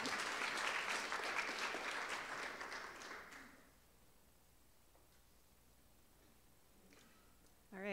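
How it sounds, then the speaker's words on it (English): Audience applause at an association business lunch, a dense patter of clapping for about three seconds that then fades out, leaving quiet room tone and a faint voice near the end. "I got applause, so thank you very much."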